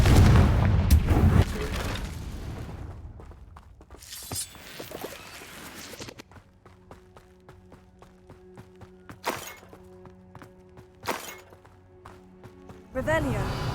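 A Confringo spell explodes in the video game Hogwarts Legacy: a loud booming blast at the start, then several sharper bursts spaced out over a steady tonal background, with a voice now and then.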